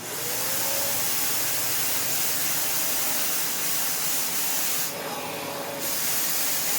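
A Prolux X8 Elite backpack vacuum runs at maximum airflow and suction, giving a steady, loud, close rushing hiss with a faint whine throughout and a brief surge in airflow near the end.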